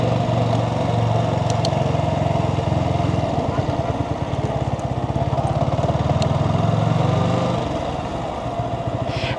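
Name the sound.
motorcycle riding slowly through parking area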